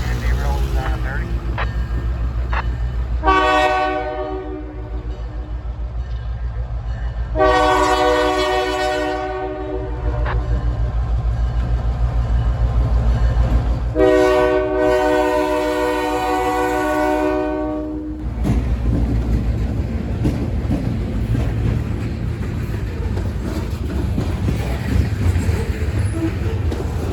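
A Pittsburgh & Ohio Central freight train rolls past at Duff Interchange, its horn sounding in three long harmonic blasts over a steady, loud rumble of wheels and cars that carries on after the horn stops.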